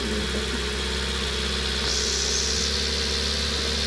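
A truck engine idles steadily with a low, even rumble and slight vibration, running close by without any voices.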